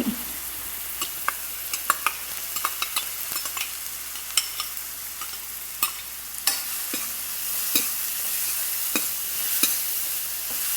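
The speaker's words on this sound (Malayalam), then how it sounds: "ഇപ്പോൾ നമുക്കിതിലോട്ട് ഈ ചതച്ച് വെച്ചിരിക്കുന്ന ചെറിയ ഉള്ളി ഇട്ട് കൊടുക്കാം. വലിയ ഉള്ളിയും ഇട്ട് കൊടുക്കാം." Crushed shallots and sliced onions sizzling steadily in a hot pan, with soft intermittent stirring scrapes and clicks over the even frying hiss, close and moderately quiet with no talk.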